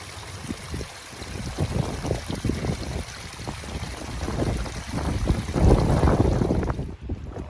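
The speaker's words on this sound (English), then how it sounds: "fresh water pouring through the cracks and the joints of the cliff onto the beach" Fresh water runs out of cracks and joints in a sea cliff onto a beach, making a continuous rushing, splashing wash under gusty wind buffeting the microphone.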